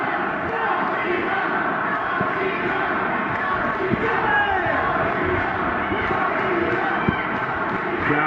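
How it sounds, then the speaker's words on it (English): Wrestling crowd at a Ring of Honor women's match, a dense steady roar of cheering filling the arena as fans rally behind the challenger, with a commentator talking over it. "Crowd rallying behind the challenger."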